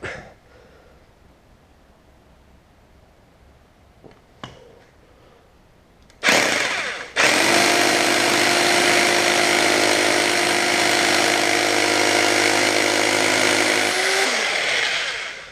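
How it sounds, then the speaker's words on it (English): Loud, steady whine of a power drill boring a 90mm-deep pilot hole, running continuously for several seconds, close by, after a few quiet clicks and a brief start-up burst. "use to drill the second pilot hole"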